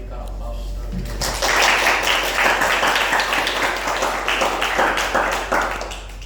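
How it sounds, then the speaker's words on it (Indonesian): Applause from an audience at an Indonesian seminar event, starting after a brief quiet moment and swelling into steady, dense clapping that continues to the end. "Mungkin bisa kita berikan aplaus terlebih dahulu."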